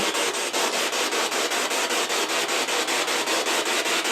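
Loud spirit box static sweeps in fast, evenly chopped pulses, a harsh hissing burst repeating several times a second without pause.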